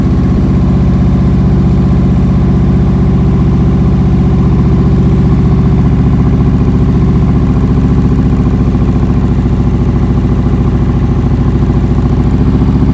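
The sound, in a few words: motorcycle engine running at slow speed, throttle held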